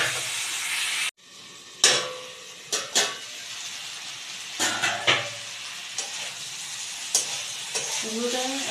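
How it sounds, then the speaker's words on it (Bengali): Pumpkin and potato fry in mutton fat, giving a steady loud sizzle with intermittent clacks of a spatula stirring the pan and no talking. "কুমড়োটা এবার আমি ভালোভাবে ভেজে নেব।"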